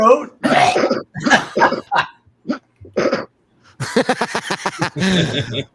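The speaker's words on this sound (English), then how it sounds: "Let me clear my throat." A man on a live talk show clears his throat in a few rough, broken bursts, with other voices and laughter around him.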